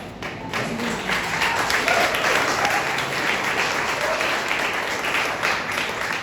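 Audience applause at an outdoor community rally, a steady wash of many hands clapping that holds at an even level throughout, with scattered cheers mixed in.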